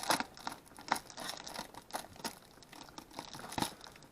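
A plastic bag holding toy tractors is torn open and handled, giving quiet, close, irregular crinkling and rustling bursts.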